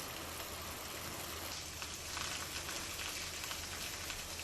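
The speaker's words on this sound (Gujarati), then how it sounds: "તાલુકાના ગ્રામ્ય વિસ્તારોમાં ધીમી ધારે વરસાદ શરૂ।" Steady light monsoon rain falls over a village area in Dang, Gujarat, an even wash of dense patter on the ground and surfaces throughout, close and soft, with no voices.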